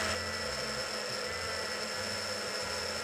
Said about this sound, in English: place a towel on top while you're blending